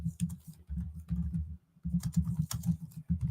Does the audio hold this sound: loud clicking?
yes